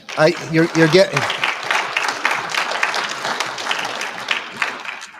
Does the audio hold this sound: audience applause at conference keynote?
yes